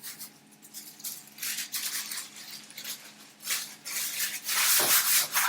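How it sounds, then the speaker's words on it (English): Butter rubbed over a baking tin to grease it, brisk scraping and rubbing strokes in uneven bursts, close and fairly loud, with no talking. "So this tin, so I'm going to grease this tin."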